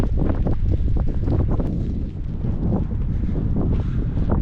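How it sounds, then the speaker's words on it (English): Strong wind batters the microphone outdoors at a wet, stormy car camping spot, a loud continuous rumbling roar with gusts that rise and ease, no voices. "Finally out for a bit, guys, but it's very windy, still very wet."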